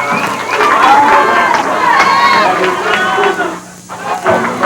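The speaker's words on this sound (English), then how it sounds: "Good crowd out here in Pine Bluff for this game." Crowd at a high school football game in Pine Bluff on a cool night: a steady, loud roar of many voices and cheering that holds throughout and dips briefly near the end.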